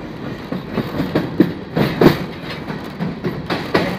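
A freight train runs through Karachi near Ghaggar station, wheels beating out a loud, steady clickety-clack with regular sharper knocks over rail joints, heard from on board with no talking.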